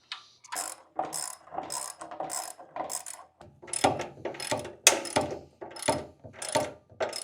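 A wrench ratchets a nut on a vertical tower-style dumbbell rack, giving repeated bursts of rapid clicking in a steady back-and-forth rhythm, close and fairly loud with no talking.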